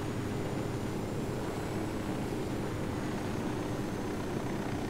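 A rebel helicopter in the video game Ghost Recon Wildlands, a steady broadband rotor and engine drone that holds evenly throughout at moderate, unchanging volume.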